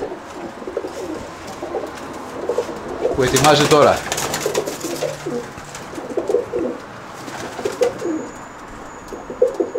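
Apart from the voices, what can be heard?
pigeons cooing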